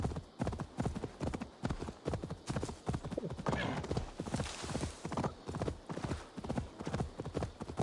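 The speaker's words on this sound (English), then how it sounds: "Making the horse run at full gallop over a hill." Hooves drum in a fast, steady gallop as a horse races over a hill in Assassin's Creed Valhalla, close and loud, the regular thuds continuing without a break.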